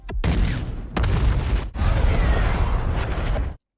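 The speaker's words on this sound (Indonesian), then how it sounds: "akhirnya Striker Eureka meledakkan diri dengan ledakan termonuklirnya" The Striker Eureka's thermonuclear self-destruct in Pacific Rim: a huge, sustained roaring blast, broken by two abrupt cuts into fresh booming waves, loud and dense throughout, then cutting off sharply.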